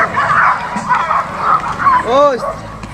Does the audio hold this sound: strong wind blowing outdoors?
no